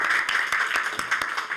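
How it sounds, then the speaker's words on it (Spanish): Applause from an audience at a municipal council session held in a neighborhood association venue, a brief steady patter of many hands clapping at moderate volume with no voices over it. "Le vamos a dar un gran aplauso a Irene"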